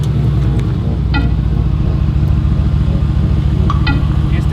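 Loud, close engine rumble with throbbing low-end pulses from an approaching Mercedes AMG GT R, steady and dominant throughout.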